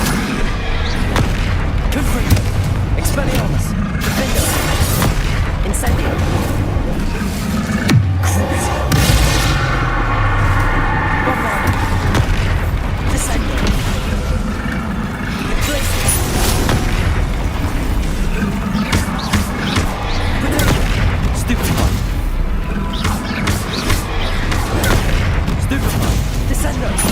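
Confringo blasting spells in Hogwarts Legacy erupt in a dense barrage of loud booming explosions and crackling bursts, layered over continuous battle noise for the whole stretch with hardly any pause.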